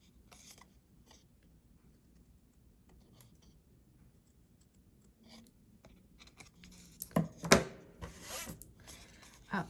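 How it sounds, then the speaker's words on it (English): Scissors cutting slits along score marks in paper, faint sparse snips and rustles at first, then a louder cluster of close crisp cuts and paper crinkling near the end. "we're gonna cut the slits on each of the score marks here"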